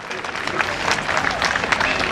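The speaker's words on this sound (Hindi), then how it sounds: "एक बार जोरदार तालियों से श्री सोमेंद्र जी का स्वागत कीजिए।" An audience at a women's and party workers' gathering claps warmly to welcome a guest onto the stage, producing a steady, dense wash of applause throughout.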